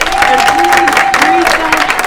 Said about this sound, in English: all give these ladies a round of applause